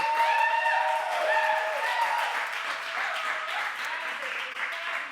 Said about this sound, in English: Sounds like a lot because when they clap, it echoes.